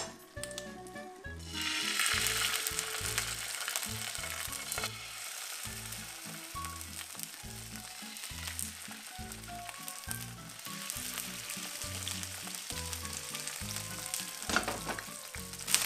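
A salmon fillet fries in a pan, crackling and sizzling steadily at close range while a regular low thumping pulse runs beneath it throughout.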